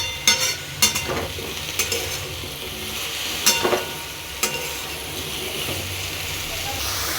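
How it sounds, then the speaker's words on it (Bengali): Pumpkin is stirred and fried in a pan for a pumpkin and Malabar spinach dish, with a steady close sizzle broken by sharp scraping clicks of the spatula throughout. "ভালো করে নেড়ে নিচ্ছি। এবার এটাকে একটু ভাজা ভাজা করে নুন হলুদ সব দিয়ে দেবো।"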